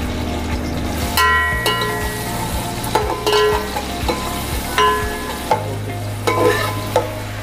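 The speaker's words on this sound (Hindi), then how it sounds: "साथ ही इसके कड़ी पत्ता और प्याज डाल दूँगी।" Curry leaves and onion sizzling loudly in hot oil in a pot, a steady close crackling hiss with occasional clinks of a utensil stirring.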